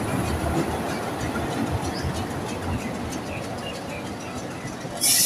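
A locomotive running without carriages rumbles steadily through a station, a continuous close rolling noise with faint clatter and a sharp burst right at the end.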